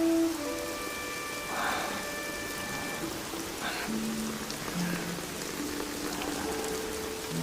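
Heavy rain pours onto surfaces in a continuous, even hiss of dense drops, close and enveloping, with faint tonal background music threads and no speech.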